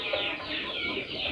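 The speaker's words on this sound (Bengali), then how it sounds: "ছাদে কিছু মুরগি আছে, সেই মুরগির বাচ্চা কিছু ফুটিয়েছি।" Native chickens and their hatched chicks on a rooftop cluck and cheep in a brief, continuous flurry of calls, close by with no speech.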